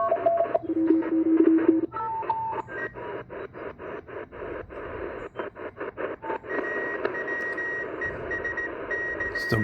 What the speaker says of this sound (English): Still got some Morse code coming in there.